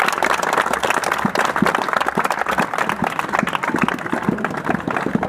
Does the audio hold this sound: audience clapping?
yes